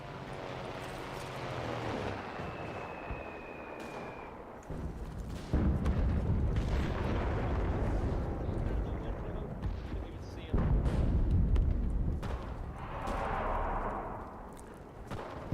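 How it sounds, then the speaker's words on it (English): Artillery strikes land in the video game Enlisted as a series of heavy, booming explosions with rumbling tails, several distinct blasts spaced across the clip, while voices talk in between. "Calling in artillery"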